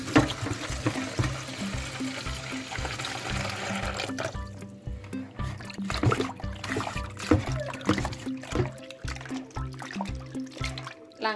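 Tap water runs for washing, a steady close stream with splashing and trickling against a basin, continuing throughout with faint background sounds.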